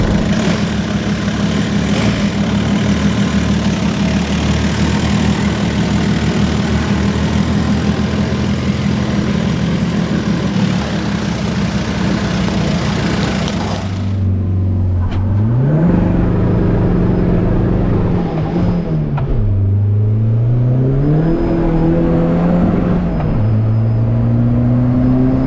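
A VW Caddy with a 1.9 TDI diesel tuned to about 200 horsepower roars loudly under hard acceleration, then drops off and climbs again through repeated rising revs as gears change.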